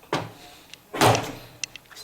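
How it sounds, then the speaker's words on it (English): Handle of a Hotpoint washing machine door pulled open: a short plastic click, then a louder clunk as the latch releases and the door swings, followed by a few small ticks, close and clear. "when you open the door handle, it pulls the pecker across and you can open the door"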